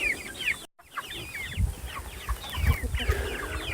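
Chicks crowd together in a coop waiting for feed, filling the space with rapid, overlapping high peeps and chirps, broken by a short gap and some low thumps close by.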